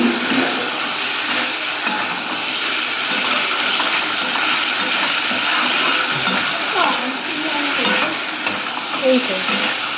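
Fried cauliflower being stirred in a hot pan for a curry, giving a steady close sizzle and frying hiss with soft scraping of a spatula, continuous throughout.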